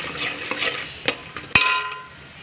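Semolina (rava) roasting in a pan for tomato bath upma gives a soft, steady sizzle, with a few sharp scrapes and clinks of a spoon against the pan, close and alone.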